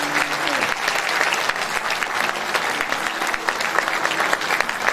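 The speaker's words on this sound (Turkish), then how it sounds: "Kocaman bir alkış istiyor. Lütfen." Audience applause at a spring concert by a Turkish folk music choir, a dense, sustained clapping from a large crowd that continues evenly throughout.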